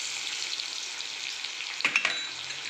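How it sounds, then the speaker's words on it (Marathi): Onion sautéing in oil in a pan for dal fry tadka gives a steady bright sizzle, broken by a few quick scrapes of stirring near the end, with no talking. "कांदा छान परतला गेलाय"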